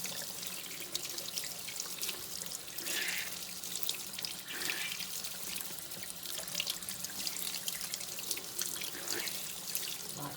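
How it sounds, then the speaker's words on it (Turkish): Tap water runs steadily while a makeup foundation sponge is rinsed clean under it, a soft continuous splash with faint squelches now and then, heard alone and without speech. "güzelce duruluyoruz"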